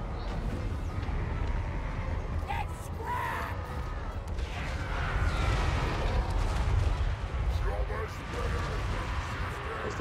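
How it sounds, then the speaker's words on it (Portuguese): Massed gunfire and booming blasts from a battle in Total War: Warhammer III, a dense continuous barrage of cracks and rumbling explosions with a voice talking faintly underneath. "Mas tem mais uma saraivada de tiro"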